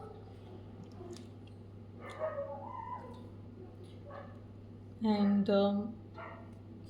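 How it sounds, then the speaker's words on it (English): Dogs bark in the early morning: a loud, close burst of two or three barks late in the clip, with a steady low background hum and a person talking earlier. "Sorry for the background noise. It's early morning and dogs are having party at the moment."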